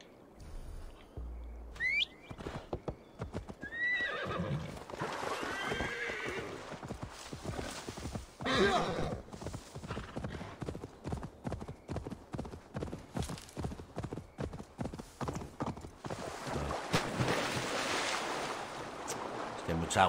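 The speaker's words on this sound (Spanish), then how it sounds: "Vamos a buscar al caballo." Horse in Assassin's Creed Valhalla, a run of rhythmic hoof clip-clops with sharp neighs and whinnies near the start, alongside faint bird chirps and soft ambient noise.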